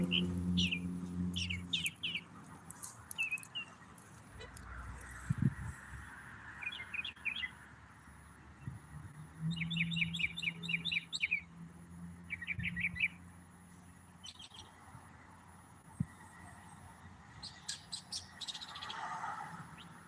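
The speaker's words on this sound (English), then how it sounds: "Listen to that songbird." A songbird sings in short repeated chirping phrases near a house, mixed with frog croaks and insect buzz in the background, with no talking.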